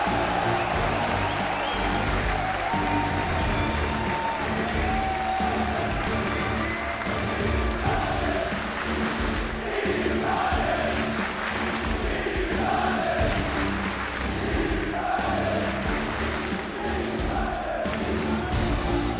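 Esports arena crowd at CWL London 2019 cheering for eUnited in a Call of Duty match against Team Envy, a sustained roar of shouting and chanting with scattered clapping, swelling in waves, with faint commentary beneath.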